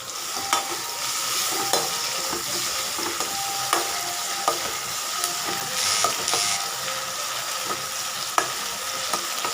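Onions sauté in a hot pan for a traditional home-cooked dinner, a steady close sizzle broken by regular scraping clicks of a stirring spoon, with no voices.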